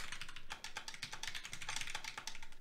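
Keystrokes on a keyboard fitted with linear Titan optical switches, a rapid, even run of light clicks and taps heard alone at close range for a couple of seconds.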